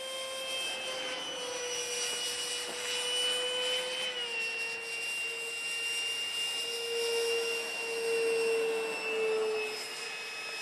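Scratch-built 70mm electric ducted fan trainer jet with a 3000kv motor on a 14-volt battery, throttled up into a loud, steady high-pitched whine that rises and swells slightly, heard close by with no talking.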